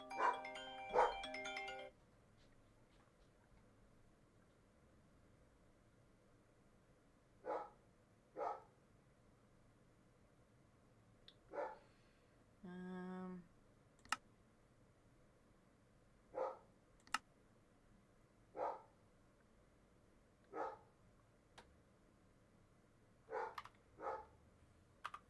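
A dog barks in short, separate bursts spaced a few seconds apart against a quiet room background, with an electronic ringing chime at the very start and no talking.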